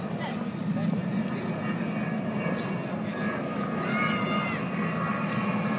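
The Avro Vulcan B.2 XH558 jet bomber flies at the Farnborough International Airshow, giving a steady, broad roar that holds throughout, with faint voices in the background.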